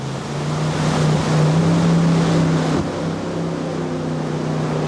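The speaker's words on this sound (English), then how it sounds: "this jet boat, a custom design model especially built to handle the rugged rapids of the Salmon River" A custom-built jet boat runs the rugged Salmon River rapids, its steady engine drone holding close and loud under rushing water and wind buffeting the microphone throughout.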